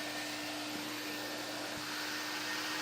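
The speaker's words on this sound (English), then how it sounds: "with the hot water coming out and the high suction of the vacuum, it's just pulling everything up from the bottom fibers of the carpet" Hot water extractor vacuum deep cleaning a carpet floor mat, a steady loud whining roar of suction that holds constant throughout, close up with no talk.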